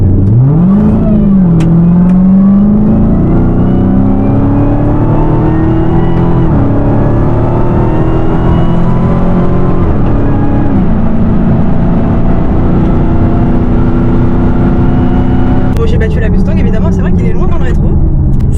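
A Dodge and a Mustang accelerate hard on an airstrip from a rolling start, the engine roaring loud and close as its pitch climbs through gear changes, with a voice talking over it.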